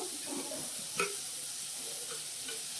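Chilli chicken is stirred in a frying pan, a quiet sizzle with a soft scrape and clack of the spoon at about one second and a few lighter scrapes later.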